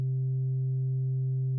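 A VCV Rack software synthesizer holds middle C as a near-pure sine wave through a filter, a steady, smooth, unwavering tone sounding alone at moderate loudness.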